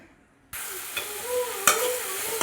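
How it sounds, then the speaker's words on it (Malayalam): Tomatoes sauté in a pan for a Kerala onion-tomato curry. After a quiet moment a loud sizzle bursts in and keeps going steadily, broken by a couple of sharp spoon scrapes, with no talking. "ഈ തക്കാളിയൊക്കെ നല്ലൊന്ന് മേശമായി കിട്ടണം നല്ലോണം ഒന്ന് വഴറ്റിയെടുക്കണേ"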